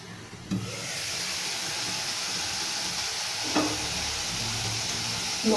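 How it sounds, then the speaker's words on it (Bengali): Spices sizzling in hot oil in a pan for a Bengali poa fish curry, giving a steady broadband frying hiss throughout with a couple of brief louder stirring scrapes. "মশলা কষানো হয়ে গেছে।"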